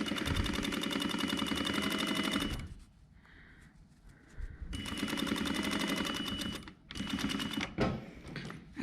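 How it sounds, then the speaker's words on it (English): A sewing machine top stitches through several layers of fabric on a small scissor holder, a fast steady run of needle strokes in two long bursts with a short pause between and a brief run at the end. "I'm just going to top stitch, making sure I go through all the layers."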